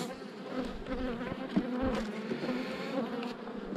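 A dense swarm of honey bees hums steadily up close around hive frames, layered buzzing with occasional louder passes and light knocks.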